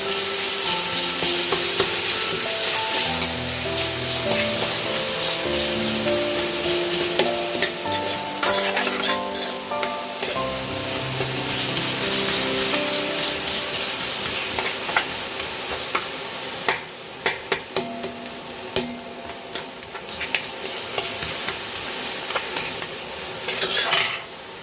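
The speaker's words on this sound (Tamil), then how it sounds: "நல்லா தக்காளி எல்லாம் சுற்றி வச்சு கரைஞ்சி வர வச்சுருவேன்" Tomatoes cook down in a hot pan for a senai kizhangu (yam) fry, stirred steadily with a utensil: a continuous close sizzle with repeated scraping and clinks against the pan, and no voices.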